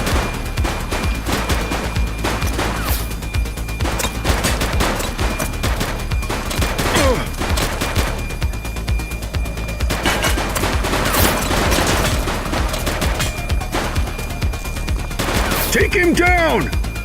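Gunfire in the police video game The Precinct, dense rapid bursts of shots continuing throughout at close range, with shouted voices over the shooting.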